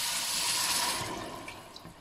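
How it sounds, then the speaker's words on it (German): Water pours steadily into a cooking pot for beef soup, a loud broad splashing rush for the first second that gradually softens as the pot fills, ending in a quieter trickle. "2 Liter Wasser habe ich jetzt reingemacht."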